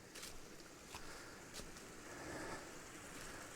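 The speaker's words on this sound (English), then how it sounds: "So we got a little stream running through." Small stream running beside a hiking trail in the Cape Breton Highlands, heard as a steady rushing wash of water, broad and continuous with no voices.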